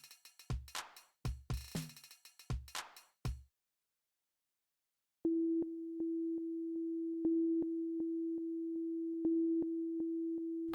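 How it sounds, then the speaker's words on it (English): Two synthesized sine waves made in Strudel hold a single steady pure tone with slow interference beating, faint and clean, accompanied by soft regular heartbeat-like drum thumps; earlier a few sharp percussive hits come before a short silence. "two sine waves creating interference patterns, quiet heartbeat like drums underneath"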